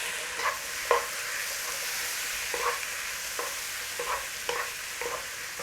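Beef and tomatoes fry in a pan for a Chinese-style dish, a constant sizzle with a spoon scraping and stirring in regular strokes, and no voices.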